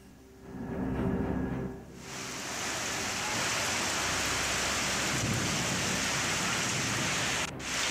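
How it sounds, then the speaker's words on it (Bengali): A heavy hailstorm with rain in the Darjeeling hills makes a loud, dense, continuous roar of pelting ice and water, surging early on, then settling into an unbroken wash for several seconds. "यति बेला सुनादाको अवस्था एकदमै ज्यादा भारी मात्रामा यो असिनाको बरसात भइरहेको"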